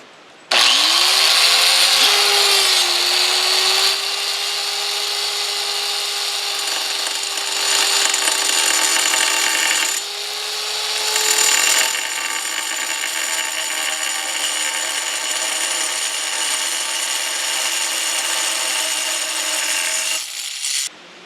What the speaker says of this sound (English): I'm going to have to use the tile saw along with the angle grinder to complete this cut